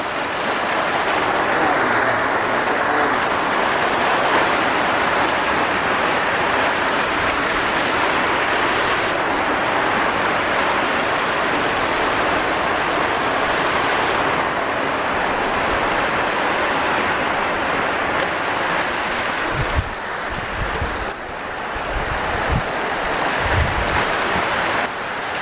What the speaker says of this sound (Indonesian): Sebenarnya cerah jadi hujan.